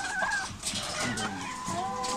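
Caged chickens on a poultry farm cluck and squawk in short, overlapping bursts close by, with a voice talking underneath.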